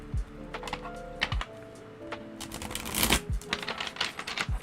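A Tarot of the Abyss deck shuffled by hand, with irregular papery riffles and soft thumps of cards against each other and a surface, close and fairly quiet.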